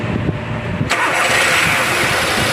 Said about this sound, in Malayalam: ഇനി വണ്ടി ഒന്ന് സ്റ്റാർട്ട് ചെയ്തിട്ട് നോക്കാം